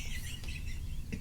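Faint chirps and tweets of birds drift in the background, barely rising above a steady, noisy hiss throughout.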